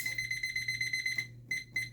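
A kitchen timer set beside a heat press at 385°F gives a rapid string of electronic beeps like an alarm clock, close and steady for over a second, then pauses and gives two more short beeps.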